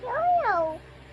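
A toddler's voice imitates a cat with two drawn-out, rising-and-falling meows, clear and close in a quiet room.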